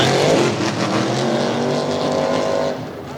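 A race truck at the Tough Trucks Challenge in Bloomsburg, PA: loud, continuous engine roar with rising and falling revs, close and dominant, fading slightly at the end.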